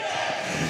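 Crowd at a high school basketball tournament game roaring steadily and close, a dense wash of cheering and shouting that fills the whole moment.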